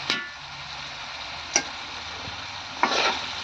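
A spoon stirs flat beans into a simmering chicken curry in a pot, giving faint scraping clicks and soft knocks over a low, steady bubbling sizzle.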